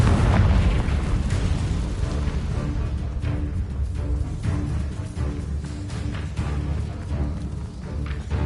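A Confringo fire spell detonates in the Hogwarts Legacy game, giving a loud sustained rumbling blast with booming low end that rolls on for several seconds with no voices over it.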